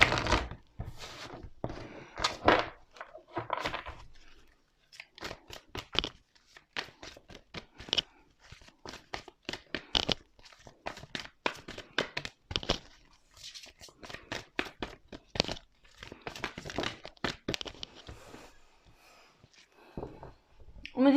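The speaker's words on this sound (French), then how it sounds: "Alors avec ce jeu-ci, on va tirer 3 cartes" Tarot cards handled, shuffled and laid down one by one, a long run of quiet crisp papery flicks, slaps and rustles in irregular bursts with short pauses, close and soft throughout.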